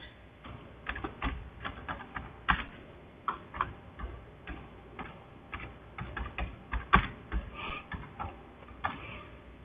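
A computer keyboard clatters with irregular bursts of keystrokes, quick clicks grouped into short runs with brief pauses, close and moderately quiet.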